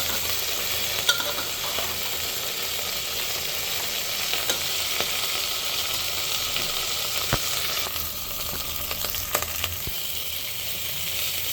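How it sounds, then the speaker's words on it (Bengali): Vegetables for khichuri fry in a pan with a steady, continuous sizzle, broken now and then by sharp scraping taps of a stirring spoon; close and moderately loud, with no talking. "আমাদের সবজি ভাজা হয়ে গেছে।"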